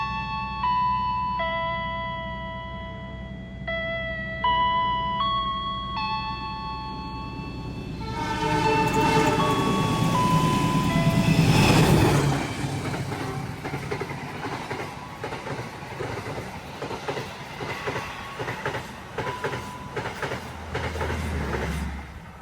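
Aboard the Dharmawangsa executive passenger train, a chime-like tone sequence sounds before the train gets rolling, followed by loud rumbling with repeated rail clicks that build to a peak and then settle into steady running.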